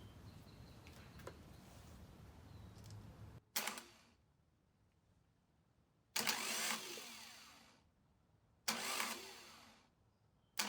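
A 1979 Honda Civic 1200 engine, unstarted for years, cranks over in three separate bursts of starter whirring. Each burst lasts a second or two and is loud and close, with quiet pauses between and no one talking.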